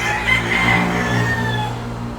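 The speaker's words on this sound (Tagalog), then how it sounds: "Mga broodcock." Gamefowl broodcock rooster crowing once, a drawn-out call of about two seconds at moderate distance over faint background noise.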